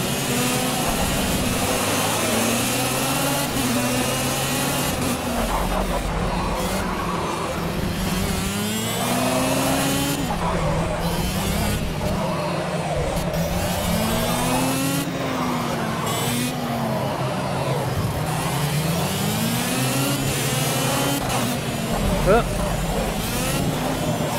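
Small go-kart engines in the racing game Project Cars whine and rev continuously, pitch rising and falling through gear changes, with someone talking over them throughout.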